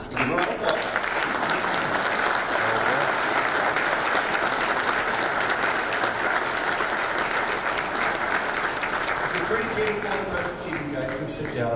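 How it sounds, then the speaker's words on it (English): A crowd gives a round of applause during a talk hosted by an association with the US ambassador, loud sustained clapping throughout with voices mixed in beneath it. "Give them a round of applause"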